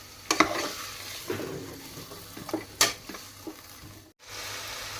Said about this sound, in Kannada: ಎಲ್ಲ ತರಕಾರಿ ಅದೆಲ್ಲ ಹಾಕಿದೆ ನಾನು ಇವಾಗ ಮಿಕ್ಸ್ ಮಾಡ್ಕೊಂಬಿಡೋಣ